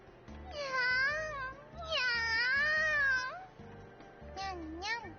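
Cat meowing while being petted, long drawn-out wavering meows close by, one after another with short gaps, a shorter meow near the end, no talking.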